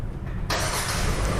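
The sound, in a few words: Hyundai Stargazer engine started remotely with key fob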